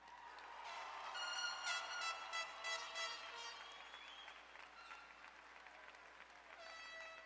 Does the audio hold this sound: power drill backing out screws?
no